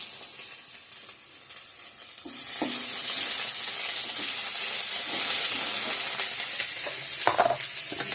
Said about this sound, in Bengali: ফোড়ন দিয়ে দিচ্ছি তেজপাতা, পেঁয়াজ, লঙ্কা, পাঁচফোড়ন দিয়ে দিলাম